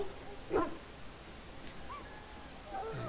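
A large dog in the Dragon Age: Origins video game gives a single short whimpering yelp early on, then only a low, quiet background rumble follows.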